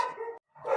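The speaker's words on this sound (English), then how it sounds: "I'm sorry about the dogs barking, that's just Brazil." Dogs barking somewhere outside a home in Brazil: two short, fairly faint bursts of barking separated by a brief silence, with no speech over them.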